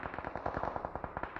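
UMP submachine gun fire in the mobile shooter BGMI, a rapid, evenly spaced burst of shots, fairly faint and continuous for over a second, with no talk.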